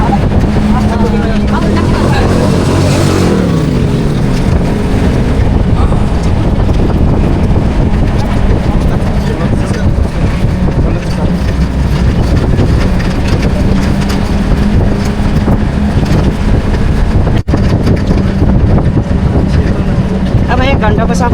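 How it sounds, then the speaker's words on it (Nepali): Cool wind rushes past during a jungle safari ride in Sauraha, a constant loud buffeting roar mixed with vehicle rumble. Voices are heard faintly at times. "त्यहाँ शीतल हावा आउँदैछ"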